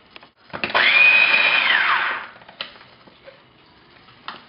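A blender or food processor minces squid, in the same container used earlier for onion and garlic, with a loud, steady whirring burst of about a second and a half that winds down, framed by quiet knocks before and after.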